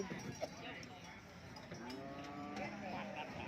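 Buffalo and cattle low at an open-air livestock market in Don Thoi, Thailand, with a drawn-out moo rising over faint background murmur and muffled market noise.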